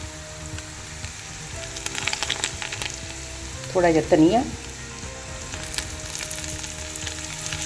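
Dried red chillies and degi mirch sizzle in hot oil as a tadka for sambar, giving a steady, soft frying hiss throughout. A person speaks briefly over the sizzle partway through.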